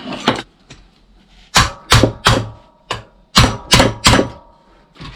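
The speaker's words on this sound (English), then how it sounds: "Where's my precision hammer?" Sharp metal hammer blows on a recumbent trike's steering collar and pipe fitting during assembly, struck in irregular groups of two and three loud, close impacts with brief pauses between.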